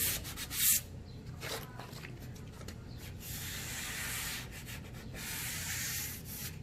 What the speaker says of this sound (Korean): 지금 사포질하는 거예요